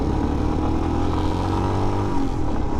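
2022 Royal Enfield Himalaya motorcycle at full throttle on a demo ride at a Texas moto festival, a steady loud engine drone with rising rev tones, close and continuous with no speech.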